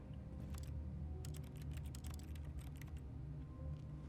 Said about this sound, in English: When I press E, there's the sound of keyboard.